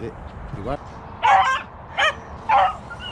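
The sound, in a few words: beagle dogs barking during a rabbit hunt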